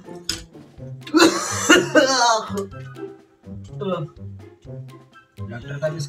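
A man in a comedic doctor's-office skit coughs in a few harsh bursts, mixed with laughter and throat-clearing-like sounds, and other voices talk around the coughing.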